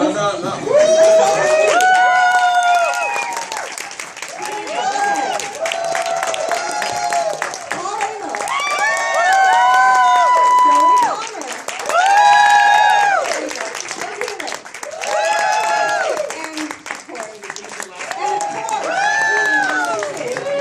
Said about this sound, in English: Let everybody applaud for each person.